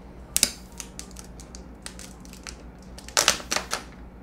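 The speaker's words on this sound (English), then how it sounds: "take out the wrapper" Plastic wrapper is torn and peeled off a Samsung Galaxy Z Fold 3 box: sharp, crinkly tearing bursts, close and fairly quiet, with a cluster of rips at the start and another near the end.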